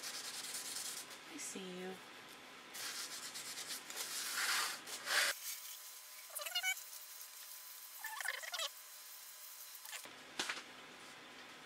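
Resin on a large round panel is hand-sanded with sandpaper in bursts of close, raspy rubbing strokes, separated by quieter pauses and a few brief squeaks, with a short spoken word near the end.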